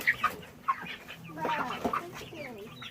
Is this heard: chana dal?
no